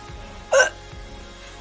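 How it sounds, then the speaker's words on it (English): Two sharp hiccups from a streamer, each a short abrupt voiced gulp, close and fairly loud with quiet pauses between, a third starting at the very end. "I got major hiccups suddenly."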